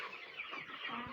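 Poultry chickens in week seven on a farm at feeding time cluck in a dense, continuous chorus, moderately loud and close, with no speech.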